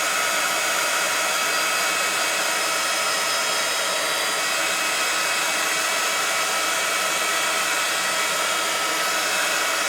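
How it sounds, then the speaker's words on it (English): A handheld blower roars steadily and loudly for the whole stretch while drying ink on a handmade mini card, a constant close whoosh with no pauses and no voices. "we're going to do is we're just going to blast this just to dry it"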